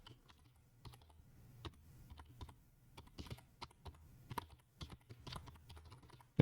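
A password is typed on a computer keyboard: quiet, irregular key clicks in short bursts with pauses, close and alone over a faint low hum.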